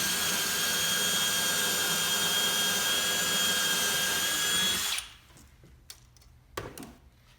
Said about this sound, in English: Now that the pilot hole is drilled